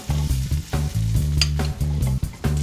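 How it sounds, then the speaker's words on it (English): A jumbo tiger prawn sizzles steadily in a pan while being basted, with close spoon scrapes and clatters breaking through the hiss at a fairly regular pace, with a strong low hum underneath and no speech. "So I'm going to leave him in there for a while, just to finish off cooking."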